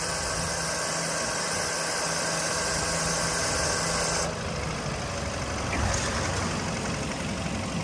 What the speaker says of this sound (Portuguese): E tem um barulho do motor, certo?